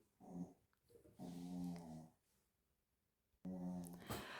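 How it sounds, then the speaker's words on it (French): A dog snores nearby in a quiet indoor room, with two long, loud, rumbling breaths and a shorter one, separated by near silence. "Le chien qui ronfle."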